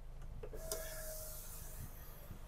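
The panoramic sunroof cover of a Hyundai Santa Fe slides open with a smooth, quiet electric motor whir lasting about a second inside the cabin, after a couple of soft clicks.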